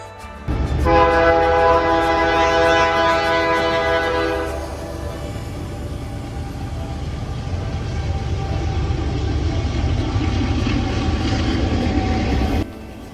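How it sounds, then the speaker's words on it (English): A train rumbles past on tracks close by in Banff National Park, its horn blaring loudly for the first few seconds before the heavy rolling of wagons continues steadily. "we are right next to the train tracks"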